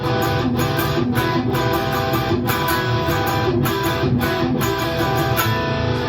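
Loud, dense guitar chords strummed in a steady rhythm with regular accents, full and sustained, with no talking.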